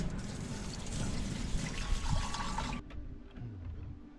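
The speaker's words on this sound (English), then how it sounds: "Time to do the dishes." Water trickling and pouring while dishes are washed at a coastal Australian campsite, a steady close splashing flow that cuts off abruptly partway, leaving quieter outdoor background.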